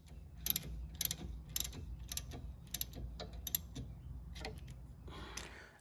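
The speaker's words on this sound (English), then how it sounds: "I'm now putting in a 7mm hex head socket, and I'm going to remove that top disc brake pin." A 7mm hex head socket works loose the top disc brake pin on a Jeep Grand Cherokee rear caliper, giving a run of sharp, evenly spaced ratchet clicks in short bursts, close and fairly quiet, with no talking.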